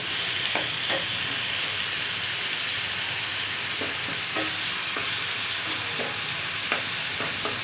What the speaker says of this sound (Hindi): अब हम इसको लाइट सा फ्राई करेंगे।